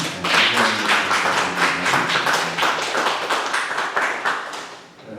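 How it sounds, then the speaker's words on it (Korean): Church congregation claps for the pastor after a sermon, a fairly loud burst of many hands that stays steady and then tapers off at the end, with no talk over it. "우리 박수 한번 보내줍시다"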